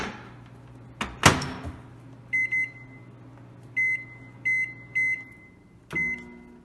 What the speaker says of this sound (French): on le met dans le micro-ondes 1 minute